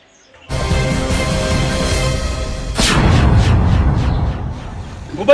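Gunfire in a Gujarati comedy sketch: a sustained loud roar of shots and blasts, punctuated by a sharp, heavy report midway and a final crack at the end.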